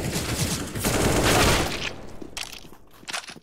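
Dense automatic gunfire from a CS:GO match rattles on continuously for about two seconds, then thins into scattered shots and footstep-like clatter, loud and with no talking over it.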